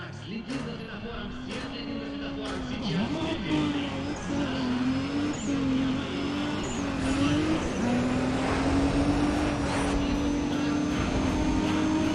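Lexus race car engine in Need for Speed ProStreet, droning steadily with shifts in pitch as it accelerates and changes gear, loud and close throughout, with someone speaking over it.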